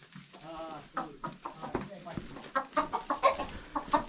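Chickens cluck in a rapid series of short calls, with a person talking in the first part of the clip.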